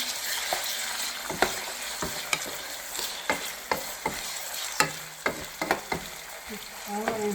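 Meat sizzles and fries in a pan for suqaar while a utensil stirs it, with sharp scraping clicks at an irregular rhythm over a steady hiss, close and moderately loud, with no talking.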